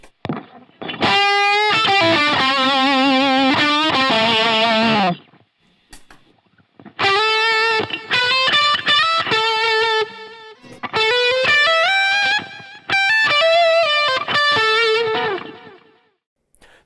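Distorted electric guitar plays chords and riffs in three separate bursts with pauses between, the tone heavily processed with effects through a Line 6 Helix LT.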